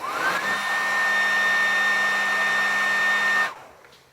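A handheld hair dryer blows steadily on a batch of homemade airbrush paint, a loud continuous whooshing roar with a faint whine that runs for about three seconds, then cuts off abruptly into quiet.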